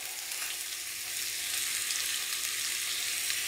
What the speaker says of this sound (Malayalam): എണ്ണ ചൂടായിട്ടുണ്ട്, നമുക്കതിലേക്ക് സവാള ഇട്ട് കൊടുക്കാം.